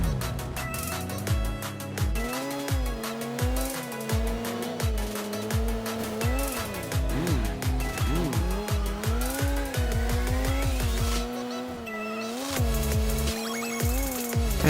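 A UAZ vehicle in PUBG Mobile drives with a loud, continuous engine whose pitch rises and falls through gear changes, with repeated rhythmic thumps and occasional tire noise, close up and steady for the whole stretch.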